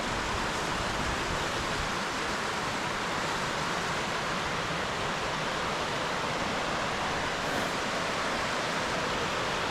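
River rushing below a hiking trail in the Smoky Mountains, a steady broadband wash of flowing water heard from a distance, constant and unbroken with no voices.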